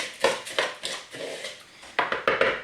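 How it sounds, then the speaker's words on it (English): Shredded coconut and salt are stirred together in a bowl for vegan macaroons, heard as a string of short scrapes and light clinks of a utensil against the bowl, close and intermittent. "with the coconut just give it a little mix"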